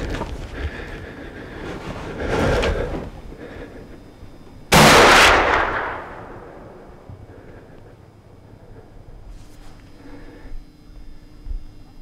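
A single loud rifle shot at a buck during a deer hunt in Iowa, a sharp close blast with a long rolling echo that fades over a couple of seconds in open outdoor quiet.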